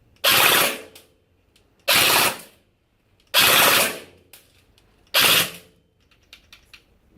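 Four rapid full-auto bursts from a Celcius AKM airsoft electric gun, each about half a second of loud mechanical buzzing from the gearbox, separated by pauses, followed by a few faint clicks once the magazine is empty.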